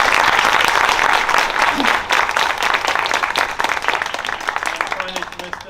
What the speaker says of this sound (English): So can I have a round of applause for them?